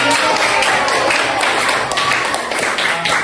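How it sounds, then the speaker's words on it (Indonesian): A classroom of madrasah students claps together in a dense, steady burst of hand claps that lasts a few seconds, close and fairly loud. "Iya, tepuk tangan."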